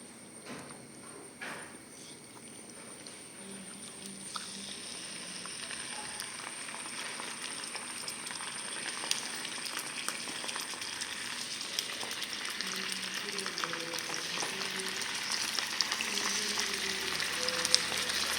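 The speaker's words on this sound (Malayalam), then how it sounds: "ഇനി നമ്മുടെ മത്തി ഇതിനകത്തോട്ട് നമുക്ക് അടുക്കി ഇട്ട് കൊടുക്കാം" Sardines coated in masala sizzle in a pan, a continuous close frying crackle that builds steadily in loudness, with faint scattered clinks and no speech.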